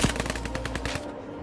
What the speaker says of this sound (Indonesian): tiba-tiba mereka mendengar suara tembakan dari arah lain